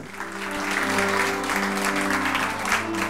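Festival audience applauding film crews at the San Sebastián film festival meetings, a steady wash of clapping throughout with a sustained musical tone underneath.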